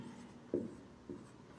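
A pen scratches briefly on paper while notes are written during a physics lesson, two short faint strokes in a quiet room.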